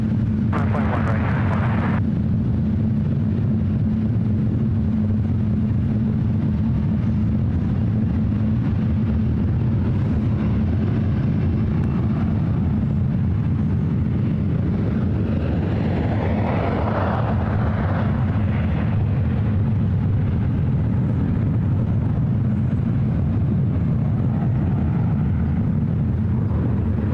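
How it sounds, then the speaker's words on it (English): An American Airlines Airbus A321 jet airliner at SFO produces a steady, loud, low rumbling roar for the full 27 seconds, with a broad swelling hiss around the middle as it passes, and no one talking. "American Airlines flight 179 coming up from JFK. It's an A321."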